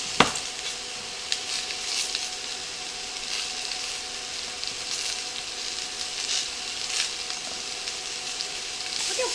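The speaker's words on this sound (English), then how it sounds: "we're going to go ahead and start adding our peppers into our hot skillet" Peppers with homemade taco seasoning sizzle in a hot skillet for chicken fajitas. A steady, close frying hiss is dotted with small crackles and pops, and no voice is heard.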